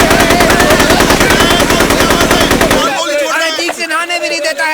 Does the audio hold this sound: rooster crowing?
no